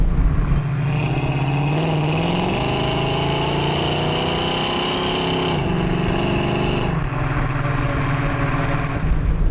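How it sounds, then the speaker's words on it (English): A 1970 Dodge Challenger R/T with its 383 Magnum V8 runs at low revs, giving a loud, steady, deep rumble close by whose pitch rises and falls a few times as the throttle shifts. "being an American engine, even at the low revs, this car has so much power and torque."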